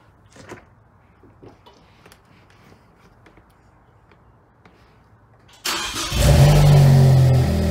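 A car engine, just refitted with charge pipes, an exhale kit and a TIAL blow-off valve, cranks and fires up after quiet workshop clatter, then settles into a loud, steady idle close by.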